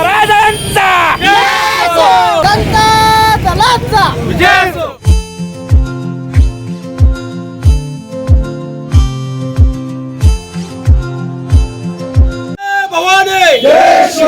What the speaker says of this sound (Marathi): इंडिया आघाडीच्या कार्यकर्त्यांनी छत्रपती शाहू महाराजांच्या विजयाच्या निमित्त जल्लोष साजरा केला